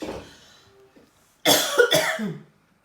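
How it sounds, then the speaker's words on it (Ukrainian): Two harsh coughs brought on by pepper come in quick succession, close and loud, after a quiet moment with faint rustling. "Я перець від перця завжди кашляю."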